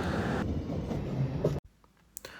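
The Coromandel Express rolls along the rails with a loud, close rumble of wheels for about a second and a half, then drops abruptly to faint background with a few soft clicks.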